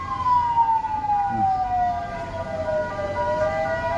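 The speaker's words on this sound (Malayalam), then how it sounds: "ഇതാ ആംബുലൻസ് വന്നുകൊണ്ട് പോയിക്കൊണ്ട്" An ambulance siren wails, sweeping slowly downward in pitch, loud and steady over a low rumble of traffic at a road accident scene in Thalappady, Kasaragod, with no talking.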